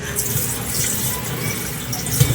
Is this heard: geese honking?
no